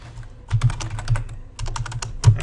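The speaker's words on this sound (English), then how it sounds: "Actually, we'll type strong there." Quick bursts of typing on a computer keyboard, close and clear, with short clusters of key clicks separated by brief pauses.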